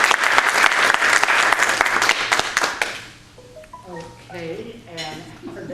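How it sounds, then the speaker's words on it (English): An audience applauds a speaker with dense, loud clapping for about three seconds, then it fades as a voice begins talking over a few scattered claps and light clinks. "let's give him a round of applause"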